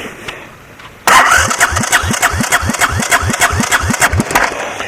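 A 1984 Honda Big Red ATC three-wheeler engine is cranked over after a compression fix, giving a loud, close, rapid rhythmic thumping that runs steadily for several seconds after a sudden start.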